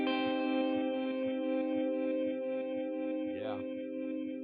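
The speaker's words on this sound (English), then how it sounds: "let's add in a reverse delay" Electric guitar through a Headrush Gigboard with a reverse delay effect, sustained chords swelling and repeating with smeared echoes, plus a quick pitch-bending flourish near the end, played alone without talk.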